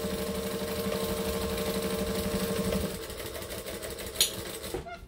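A sewing machine runs steadily while stitching along the bottom of a Christmas quilt panel, a fast mechanical whir for about three seconds before it stops, leaving quieter room sound and a couple of small clicks.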